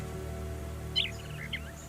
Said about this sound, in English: You know what that is? A real live bird.